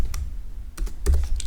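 Computer keyboard keys tapped in short bursts while code is entered, with a few quick clustered clicks separated by brief pauses, close and fairly loud, with no talking.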